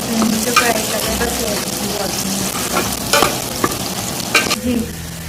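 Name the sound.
onions and chilies frying and being stirred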